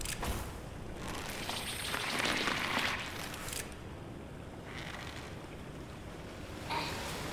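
Rushing, splashing water in The Curse of Brotherhood video game: a steady, loud wash of surf-like noise that swells around the second and third seconds, then settles into a continuous roar with brief later surges. No voices.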